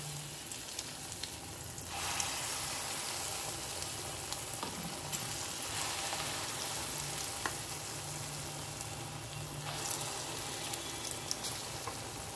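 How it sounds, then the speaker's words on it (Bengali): Medium-sized red lentil fritters frying in hot oil, a steady close crackling sizzle with occasional stirring scrapes and pops, with no one talking. "এবার আমি বড়া কটা ভেজে নেব। বড়াগুলো খুব ছোট ভাজবো না, মিডিয়াম করে ভেজে নেব"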